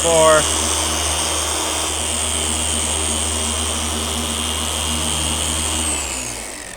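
A G9 random orbital polisher spinning at speed 4 gives a steady, loud droning whir throughout, with a rising whine at the start as it spools up and a slight drop as it winds down at the end.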